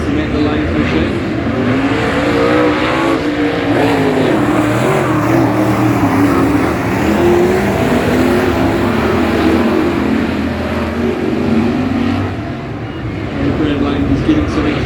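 Race cars lap the Huntly speedway with a loud, sustained engine roar rising and falling as they circle, while a commentator talks over the noise.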